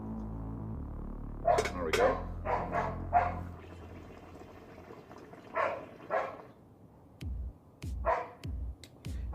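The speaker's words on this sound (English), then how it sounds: "I apologize for the dog barking in the background." A dog barks in the background in several short bursts, loud at first and then returning in later clusters, while someone talks quietly between them.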